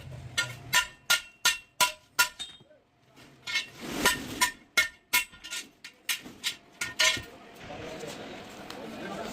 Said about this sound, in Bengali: অ্যাঙ্গেলগুলো বাড়ি দিয়ে সোজা করা হচ্ছিল, কারণ কিছু অ্যাঙ্গেল একটু বাঁকা ছিল হালকা